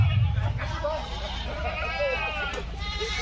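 Boer goats bleating at a goat contest in Lampung, several wavering bleats rising over a noisy crowd with people talking throughout.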